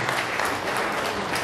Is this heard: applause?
yes